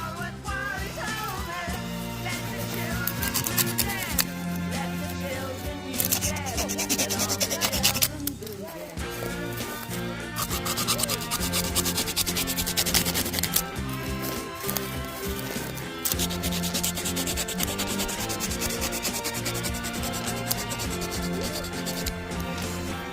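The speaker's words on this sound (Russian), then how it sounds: "Производим опиловку сучков вот таких вот сосеночек наших с помощью мультитула Victorinox Huntsman." Small pine branches being sawn with the folding saw blade of a Victorinox Huntsman multitool: steady, close rasping strokes that run continuously with brief pauses, loud and alone.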